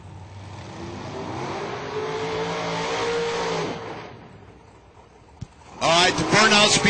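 A Top Dragster drag racing car roars through a burnout at an IHRA drag strip, its engine holding a loud sustained rumble for several seconds before dropping off, then a sharp pop and a renewed harsh blast near the end.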